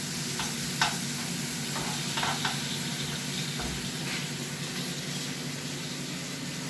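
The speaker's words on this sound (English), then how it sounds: "We've got exactly 7 minutes on the bacon." Bacon frying in a pan for a rustic breakfast, giving a steady, close sizzle throughout with a few brief clinks and scrapes of stirring over it.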